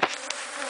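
Dense, steady droning buzz of bees swarming under a buried awning, close and loud, with no voices.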